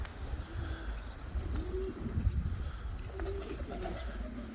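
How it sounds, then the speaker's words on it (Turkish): Pigeons coo softly in a quiet setting, with a few low, rounded calls rising over faint background noise. "güvercinleri içeriye alacağım, yemleyeceğim"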